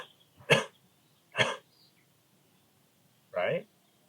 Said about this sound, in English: Touch there and do a little cough.